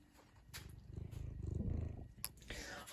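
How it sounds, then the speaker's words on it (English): A cat purrs softly in a low, rumbling, pulsing rhythm at close range, faint and steady, with a couple of small clicks and rustles. "Oh, cute kitty cat."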